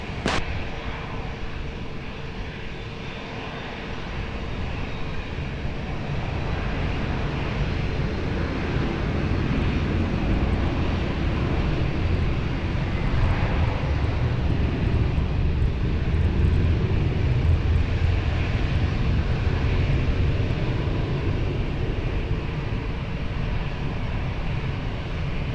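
Jet airliner taking off from runway 20 at Lisbon Airport, a steady, broad engine roar that builds slightly and holds loud and sustained throughout, with no talk.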